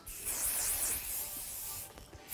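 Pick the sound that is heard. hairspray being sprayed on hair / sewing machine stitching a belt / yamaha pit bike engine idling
hairspray being sprayed on hair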